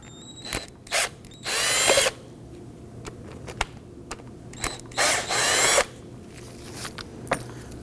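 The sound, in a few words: power tool loosening Toyota Camry brake caliper bolts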